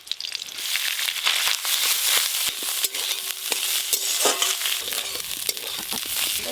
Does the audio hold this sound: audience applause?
no